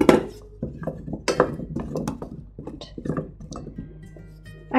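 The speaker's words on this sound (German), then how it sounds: "So wie das Öl warm ist, geben wir unsere Steckrüben dazu und braten sie ein bisschen an." Rutabaga pieces tipped into warm oil in a pan for a venison dish, giving a close clatter and scrape of vegetables against the pan followed by a soft, steady sizzle with scattered clinks of utensils, no voices.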